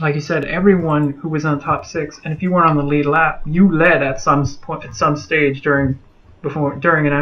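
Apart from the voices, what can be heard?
No everyday noises stand out.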